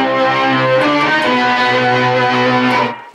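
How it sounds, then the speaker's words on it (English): Electric guitar played through an Electro Harmonix Synth 9 synth pedal gives a loud, thick, buzzy sustained synth-like chord with shifting notes that cuts off at the end. "Electro Harmonix Synth 9 for some crazy sounding,"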